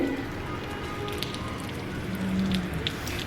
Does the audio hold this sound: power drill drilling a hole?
no